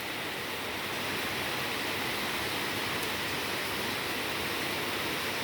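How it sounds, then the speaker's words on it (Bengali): A steady wash of heavy morning rain fills the air as a broad, constant hiss, unchanging and moderately quiet, with no voices or other sounds. "ঘুম থেকে উঠেই দেখি বৃষ্টি হচ্ছে।"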